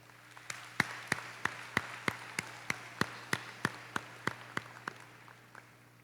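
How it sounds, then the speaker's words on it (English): Audience at a university summer commencement ceremony clapping, a rapid series of sharp claps in steady rhythm, fairly faint and alone with no talk. "Let's give them a round of applause."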